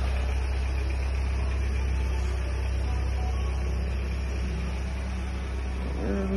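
A 2013 Hyundai Santa Fe engine idles in place, giving a steady, low, even hum that runs unbroken and fairly quiet with no other activity.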